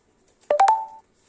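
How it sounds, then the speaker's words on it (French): A phone notification chime plays once, close and clear in a quiet room: three quick stacked beeps, ending in a held tone that fades within half a second. "Notification."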